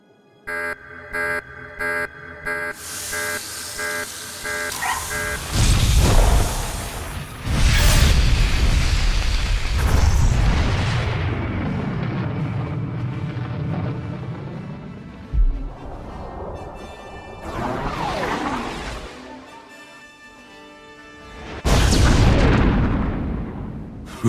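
Weapon launch and massive explosion in Star Wars: The Old Republic gameplay, beginning with rhythmic electronic beeps, then loud booming blasts with long rumbling, sweeping roars and a final heavy burst.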